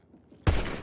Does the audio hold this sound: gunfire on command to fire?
yes